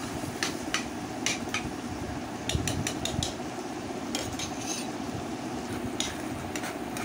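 Onions frying in a pan with a low, steady sizzle, punctuated by repeated sharp taps and scrapes of a spoon stirring against the metal, close and without talk.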